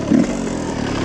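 A Yamaha YZ125 two-stroke motocross bike's engine runs close by at a low, uneven idle, with a brief rise in revs near the start before settling into a steady buzzing drone.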